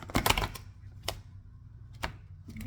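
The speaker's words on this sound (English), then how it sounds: "trying as much as I can to shuffle these cards" A deck of tarot cards is shuffled close by, producing quiet, sharp papery riffles and taps in a few short bursts with gaps between them.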